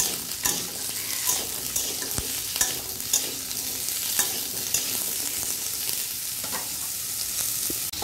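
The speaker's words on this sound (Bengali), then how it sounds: "আর আলু আর পেঁপে টমেটো সব দিয়ে দিলাম একসঙ্গে। এগুলো একসঙ্গে ভেজে নেব।" Pointed gourd, potato, papaya and tomato frying together in a pan, a steady close sizzle broken by repeated clinks and scrapes of a spatula stirring against the metal.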